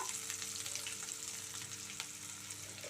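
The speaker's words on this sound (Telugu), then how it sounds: "దొండకాయ ముక్కలు చాలా బాగా ఫ్రై అయ్యాయి" Ivy gourd pieces frying in a pan, a soft continuous sizzle with faint crackles at low level beneath a steady hum.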